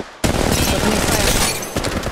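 Rapid automatic gunfire from the Apex Legends Mobile shooter game, a dense continuous burst of shots that starts abruptly and rattles on for about two seconds with a brief dip near the end.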